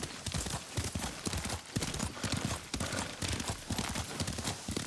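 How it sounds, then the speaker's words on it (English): Horse hooves clip-clop in a steady, brisk rhythm during riding in the video game Ghost of Tsushima, moderately loud and close. "Lord Sakai taught me to ride a horse"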